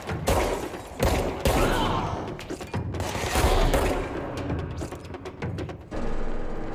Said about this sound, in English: The dead men are shooting!